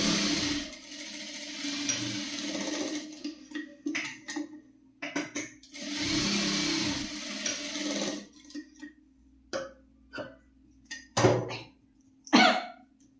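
A sewing machine stitches a blouse in two sustained runs of whirring motor noise, then falls quiet apart from scattered short clicks and knocks of handling.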